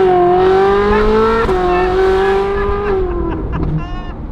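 Ferrari 458 fitted with a Klein exhaust revving loud and close, a sustained high engine tone that dips and climbs through shifts before easing off, with no talking.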